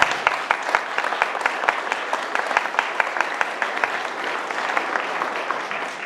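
A conference audience at a French nationalist gathering applauds a speaker just introduced, producing sustained, dense clapping with sharp individual claps standing out, steady throughout.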